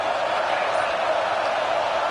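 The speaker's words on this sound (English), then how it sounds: "Tremendous crowd atmosphere now in the final minute of play." Steady roar of a stadium crowd at an LSU versus Miami football game in the final minute of play, a dense continuous wash of distant cheering and noise with no clear individual voices standing out.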